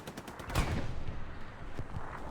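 Gunfire in the Hell Let Loose game on Utah Beach, with a cluster of sharp shots and bursts, some near and some distant, under a continuous battlefield rumble.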